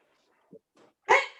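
A puppy gives a single short bark near the end, close and fairly loud, after two faint brief sounds in otherwise quiet surroundings.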